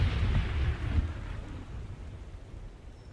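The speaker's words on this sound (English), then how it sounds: "And then they tried to get some sleep with the storm all around them." Thunderstorm rumbling around a raft tied up at a riverbank: a deep, heavy roll of thunder that swells early and then slowly fades into a low, steady wash.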